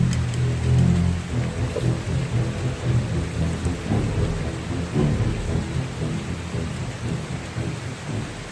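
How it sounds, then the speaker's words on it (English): Steady rain falls with a low rumble of thunder during a solo overnight camping trip by Rock Run on the Old Loggers Path, a loud continuous wash of rain with no voices. "It's starting to rain."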